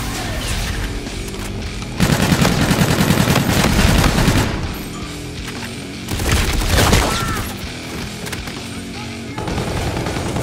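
Rapid automatic gunfire from the NV4 rifle in the shooter game Call of Duty: Infinite Warfare, in loud sustained bursts with booming impacts, swelling around two and six seconds, mixed with game effects.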